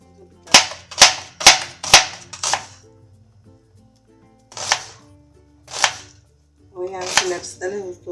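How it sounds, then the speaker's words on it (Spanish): Knife chopping onion on a board: five sharp, evenly spaced close chops, a pause, then three more scattered chops, each a crisp percussive knock. "Le voy a picar un poquito de cebolla."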